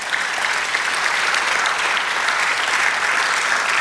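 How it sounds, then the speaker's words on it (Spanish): A church congregation applauds together in a dense, steady wash of clapping that holds at full strength throughout, with no voices over it. "Denle un aplauso, Señor."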